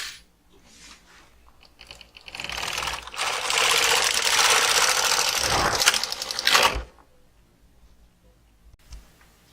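A knitting machine works rows of a dog sweater, its carriage sliding across in a loud rattling, clicking sweep that lasts several seconds, with quieter mechanical clicks and knocks before and after.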